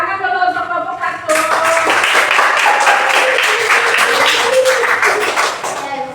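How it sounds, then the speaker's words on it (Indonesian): A classroom group of students and teachers breaks into loud, sustained applause for the first discussion group, dense clapping filling several seconds after a brief lead-in of tonal sound, with voices mixed in. "Tepuk tangan dulu untuk kelompok 1."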